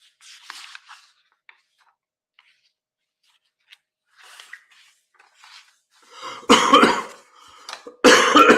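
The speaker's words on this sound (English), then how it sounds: "Ooh, slight cough." A few sharp coughs break through near silence after scattered small rustles, ending in two loud, close bursts of coughing.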